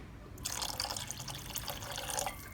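Thick tamarind water poured from a small vessel into a pan of egg curry, a brief soft liquid trickle and splash lasting about two seconds, close and fairly quiet with no talking.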